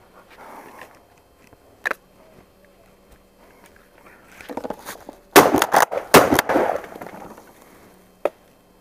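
Several sharp, loud bangs from a close-quarters carbine fired indoors through doors, a tight cluster of shots in the middle, with scattered clicks and handling noise before and one more crack near the end.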